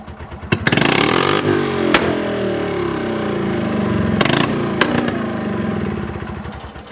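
Gas-powered EZGO golf cart engine started and running without its muffler, loud and close, catching with a few sharp bangs then settling into a steady rough drone with occasional pops.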